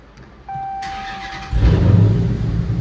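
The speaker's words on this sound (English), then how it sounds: "Car fires right up" A Dodge Challenger Scat Pack 392's ignition chime sounds, then the engine cranks and catches, settling into a loud, rumbling idle close by.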